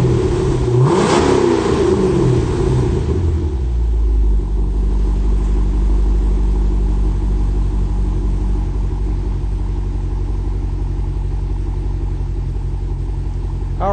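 Close, loud revs from a 2005 C6 Corvette with a B&B Route 66 exhaust and oval tips: a couple of rising blips that fall back into a deep, steady, rumbling idle, with no talking.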